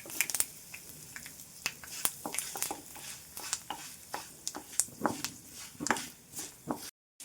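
Curry leaves and chillies sizzle in hot tempering oil, a close, crackling fry with irregular sharp pops and spatters throughout that stops abruptly near the end.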